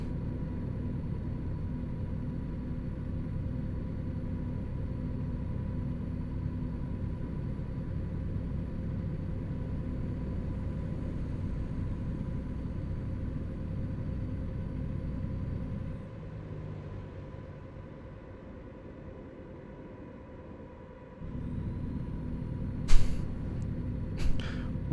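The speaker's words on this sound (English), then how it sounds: "Like the engine sounds a little loud." A truck engine drones steadily from inside the cab while driving, a loud constant rumble that drops away briefly partway through, then returns with a couple of short sharp hisses near the end.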